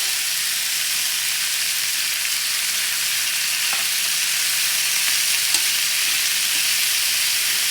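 Pork carnitas sizzle and fry loudly and steadily in their own lard in a hot cast iron skillet, a dense crackling hiss with a few soft clicks of stirring, no talking.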